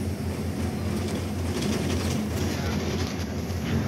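A Sari Harum bus rumbles and rattles over a bumpy, damaged road on the Purwakarta to Palembang trip, a steady, dense low drone with a faint rattle and no pauses.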